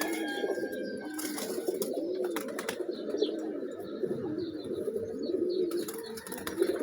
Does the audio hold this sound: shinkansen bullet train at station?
no